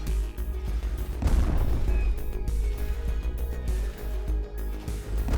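Space video game explosions, rumbling booms and crackling bursts layered over a continuous low drone, dense and steady with no clear pauses.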